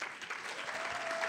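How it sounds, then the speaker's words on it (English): Brief, fairly faint burst of audience applause at a Ministry of Health World Mental Health Day event, an even wash of many hands clapping at a distance. "Let's give them a round of applause, please."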